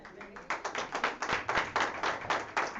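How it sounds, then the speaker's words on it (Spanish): Applause from a church congregation at a Sunday service: sharp, fairly regular claps in a quick pulsing rhythm, moderately close and fairly quiet overall, with no talking over it. "Entonces vamos a darle un aplauso a nuestro Dios."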